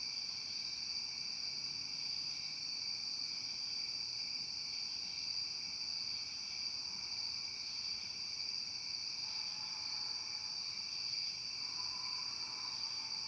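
Crickets chirp in a steady, unbroken high trill through a quiet night, with a faint background hum and no voices.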